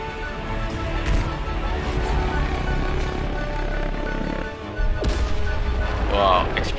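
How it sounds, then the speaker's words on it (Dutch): Explosions and gunfire in the video game Battlefield V, with dense booming blasts and rapid shots running continuously under a player's voice, briefly dropping away before a sharp new blast. "Wow, explosie."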